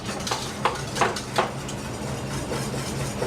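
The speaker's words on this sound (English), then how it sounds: "when you're whisking, you want to make sure that you get into all the corners" A whisk scrapes and stirs a flour-and-butter roux into a creamy sauce in a pan for turkey tetrazzini, giving a few distinct metallic scrapes early on, then a steady soft background hiss of cooking.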